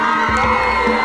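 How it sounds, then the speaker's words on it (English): An audience cheers and whoops at a European choir competition, a loud sustained roar of voices with higher shouts rising over the crowd noise. "So much cheering, so much fascination for music."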